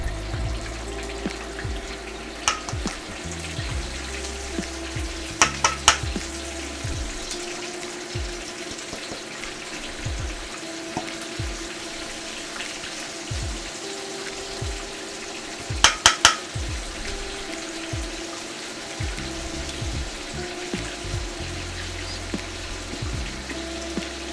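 Chicken wings deep fry in hot oil in a wok, Korean fried chicken style, giving a steady busy sizzle and crackle throughout with a few sharper clinks and splashes.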